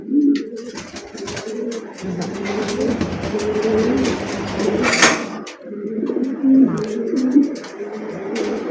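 Many domestic and foreign pigeons coo together at a wholesale pigeon market, a continuous layered murmur of throaty calls with occasional sharp clatters nearby.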